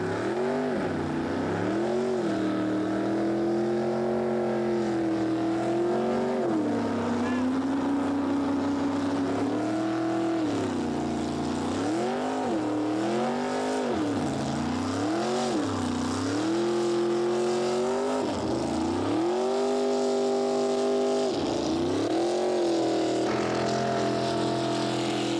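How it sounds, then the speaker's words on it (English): A racing jetboat with a 460 cubic inch Ford engine launches at the start of a U.S. championship race on the Payette River, its loud engine revving and surging in repeated waves of acceleration throughout. "The number 307, it's the El Coyote boat with its 460 cubic inch Ford engine,"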